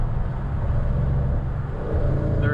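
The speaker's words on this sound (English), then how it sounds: "I'll demonstrate a downshift right now. So here we go, 6th to 5th" A Dodge Challenger ScatPack engine downshifts from 6th to 5th gear, a steady close low rumble that swells slightly toward the end, with no voices.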